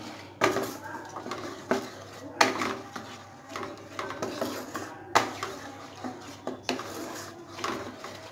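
Spices and small pieces of cauliflower being stirred in a pan for a vegetarian shahi cauliflower curry, with repeated scraping and clinking strokes of a spoon against the metal at an irregular, close-up rhythm.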